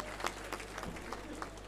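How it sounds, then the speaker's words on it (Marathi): Crowd applause at a political workers' rally in Khopoli: a faint, steady wash of many hands clapping over a low electrical hum from the sound system, lasting under two seconds. "एकदा जोरदार टाळ्या होऊन जाऊ द्या"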